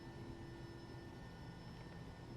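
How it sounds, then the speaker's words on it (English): Twin turbine engines of a Bell 429 helicopter in the X-Plane 11 flight simulator, a steady even whine with a constant broadband rush and fixed tonal hum, unchanging and moderately quiet throughout. "the Bell 429 is a twin-engined helicopter equipped with 2 turbine engines"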